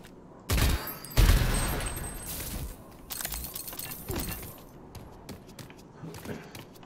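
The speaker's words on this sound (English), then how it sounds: "Who's shooting?" Gunfire in the video game Rage 2 comes as sharp bursts and cracks with shattering, rattling debris, dense at first and then thinning into scattered ticks.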